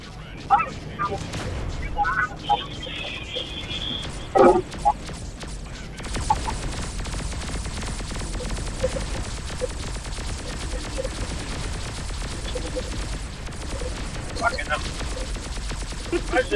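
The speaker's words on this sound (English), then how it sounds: "There's too much gunfire." Rapid bursts of game gunfire crackle almost continuously, dense and rattling, with people talking and laughing over it.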